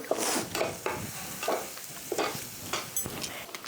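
Spices are stirred into fish in a pan over low heat: a steady run of scraping stirring strokes against the pan, roughly twice a second, close and clear, with a light sizzle underneath and no talking.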